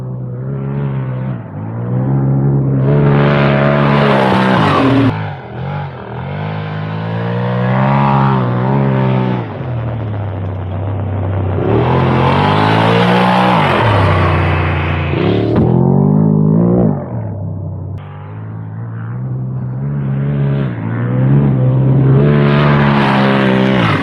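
A Polaris RZR Turbo side-by-side on a beach, fitted with paddle tires, its turbo engine droning and surging through repeated throttle swells, loud and close throughout with no talking.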